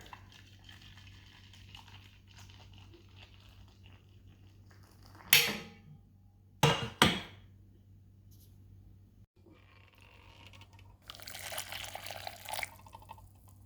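Boiling water splashes and trickles into a bowl of Jello in a few short bursts, then a longer steady pour near the end, against a faint background hum.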